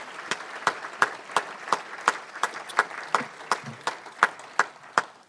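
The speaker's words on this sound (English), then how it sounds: "Let's give a huge round of applause for our board members." Applause from a gathering at an evening talk for the board members, heard as a thin, evenly spaced run of single sharp claps, about three per second, fairly close and steady throughout.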